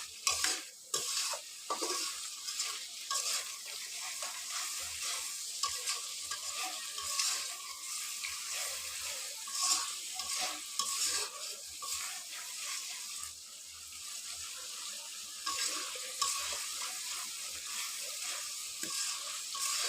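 Spice paste with green chillies frying in oil in a kadai, ready for fish heads and potatoes, a continuous sizzle broken by repeated scraping stirs of a spatula, fairly close, no talk.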